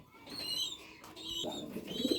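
Racing pigeons cooing softly nearby, a few low, throaty murmurs over faint chirps and rustling, with quiet background noise and no talking.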